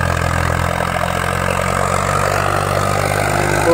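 A tractor engine, either a Swaraj 855 or a Kubota 5502, idles steadily up close with a low, even diesel throb and a faint rise in revs at the very end.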